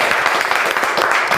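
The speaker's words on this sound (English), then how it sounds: "The guests here tonight, big round of applause for all of you." Studio audience applauding guests on a football talk show, a short dense burst of clapping, loud and close, filling the whole moment.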